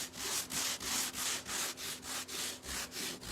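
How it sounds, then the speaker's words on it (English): A hand sander is rubbed back and forth over a painted wooden nursery craft piece, making rhythmic abrasive strokes of roughly three per second, close and steady, with a faint hum beneath. "I'm gonna just run my sander across this a little bit here and there"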